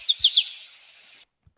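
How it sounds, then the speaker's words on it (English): Several quick, high bird chirps in a short burst, followed by a softer fading twitter before silence. "There's actually birds chirping."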